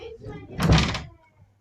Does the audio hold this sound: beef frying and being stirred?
no